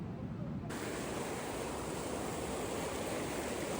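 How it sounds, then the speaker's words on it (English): A creek in the Sierra Nevada running over rocks, a steady broadband rush of water that swells louder within the first second and then holds constant, close and alone. "I've always found something very calming about sitting next to a running river."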